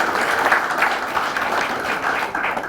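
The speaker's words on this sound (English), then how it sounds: "Can we just give them a round of applause, especially for coming so far?" An audience at a children's awards ceremony in Fiji breaks into sustained applause, a dense and even wash of clapping that holds steady throughout at close range.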